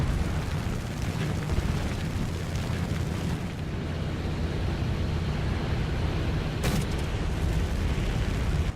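Rumbling bursts of anti-aircraft flak fire in War Thunder, a dense continuous barrage of low booms and crackle that stays loud throughout, with a sharper burst near the end.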